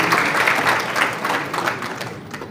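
A crowd at an anti-corruption event applauds with dense, steady clapping that gradually thins out and fades over a few seconds.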